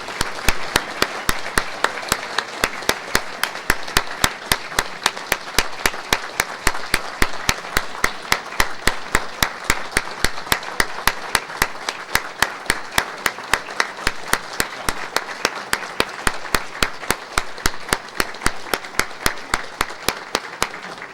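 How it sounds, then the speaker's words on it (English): Loud, steady applause from an audience honoring a departing alumni association president, dense rapid clapping sustained throughout without break. "I ask that you all clap as loud as possible and thank her very much for her 2 years of service"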